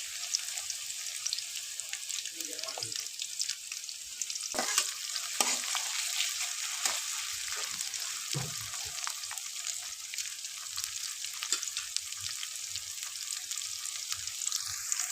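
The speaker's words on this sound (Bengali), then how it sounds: "এবার আমি খুব ভালো করে পেঁয়াজগুলোকে ভেজে নেবো" Chopped onions fry in a pan for a mutton curry, giving a steady sizzle throughout, broken by occasional knocks and scrapes of a spoon stirring, close and fairly quiet with no talk.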